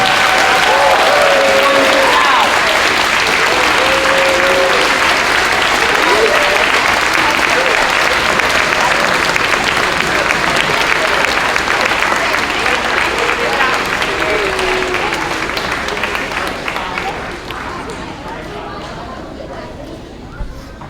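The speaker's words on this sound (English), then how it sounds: "let's have another big round of applause for them" An audience at a third and fourth grade school concert gives the fourth graders a big round of applause, dense sustained clapping with scattered cheers and chatter that holds for about fifteen seconds before tapering off.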